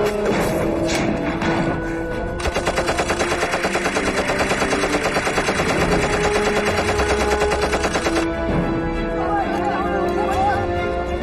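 Machine gun fire in a Chinese bandit-fighting war film, a long rapid burst of rattling shots lasting several seconds, loud and close, with shouting voices and other film sounds before and after it.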